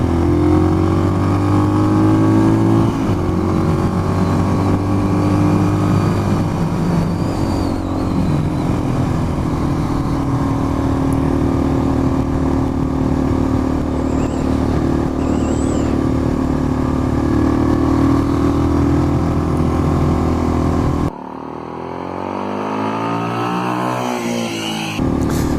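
A 2018 SWM Gran Milano 440 cafe racer motorcycle is ridden with its engine droning loud and close at a steady pitch for about twenty seconds, shifting once, before the sound drops to a quieter, different tone near the end.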